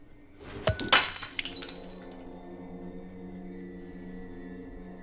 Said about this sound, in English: You knock a 22-year-old glass of Amontillado out of my hands in a fit of jealous rage